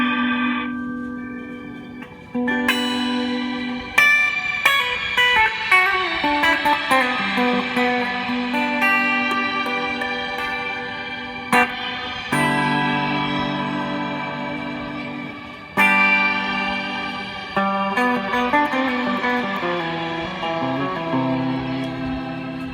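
A Meris Mercury7 reverb pedal lends a subtle, haunting wash of reverb to sustained chords, with swelling tails that ring out between fresh strums and bloom steadily across the whole passage.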